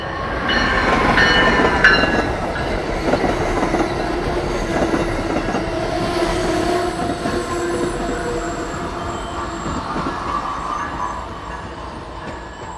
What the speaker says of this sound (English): Sunday only train 615 slows for their stop at Elizabethtown.